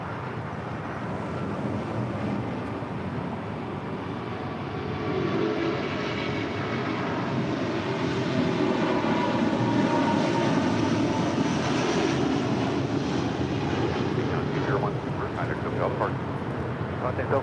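An airliner on final approach to runway 25 left at Los Angeles International Airport, a broad roaring engine rumble that swells and holds steady, with radio voices faintly underneath.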